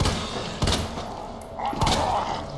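Pistol fire in Resident Evil 2 Remake: two punchy shots about a second apart, heard over a steady, noisy game backdrop.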